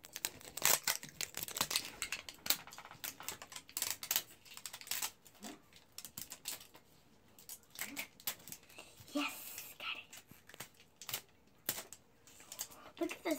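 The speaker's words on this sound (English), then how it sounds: "Let's unwrap it. Second layer." Plastic wrapping of an L.O.L. Surprise Glitter Series doll is peeled and torn open, giving a busy stream of close crinkles, rips and clicks, with brief talk mixed in.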